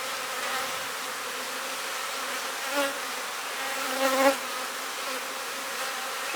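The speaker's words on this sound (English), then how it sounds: "We know these are nurse bees" Honey bees, nurse bees inside a cell builder hive, give off a steady, dense buzzing hum throughout, with a couple of brief louder swells as individual bees pass close.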